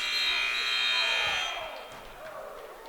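A loud basketball game buzzer blares steadily in a gym, then cuts off into crowd noise and an announcer talking.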